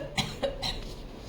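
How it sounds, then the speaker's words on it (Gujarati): A patient with a large incisional hernia and several failed prior operations gives a few short, quick coughs on request during a hospital examination, each one close and fairly soft. "ખાંસી કરો."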